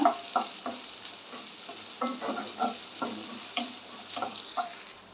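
Onions sauté in a pan for chana masala, a soft crackling sizzle punctuated by a series of gentle utensil scrapes and taps at an uneven rhythm, quiet and close with no voices.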